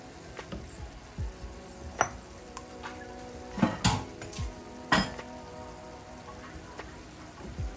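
Chinese vermicelli is added to a shrimp marinade heating in a pan, with scattered clinks and taps of utensils against the pan over a quiet sizzling background.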